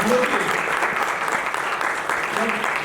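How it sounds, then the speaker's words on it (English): Applause from an audience at a Dish TV Smart+ services launch event in Delhi, a steady dense wash of clapping lasting the whole stretch, with voices mixed in. "we must give a round of applause for that"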